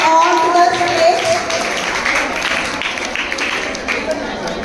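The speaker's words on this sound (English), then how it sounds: "Let's welcome her with a huge round of applause. Put your hands together." Audience applause greets a guest brought onto the stage at a school Teacher's Day and Telangana language day celebration, a broad sustained clapping wash that slowly fades, with a voice speaking briefly at the start.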